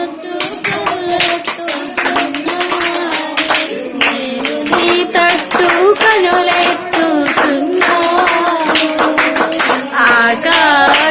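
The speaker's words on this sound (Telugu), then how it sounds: "క్లాప్స్." Small children at a Sunday school clap their hands in a steady, quick rhythm while singing a Christian devotional song in unison. The sharp claps ring clearly over the voices throughout.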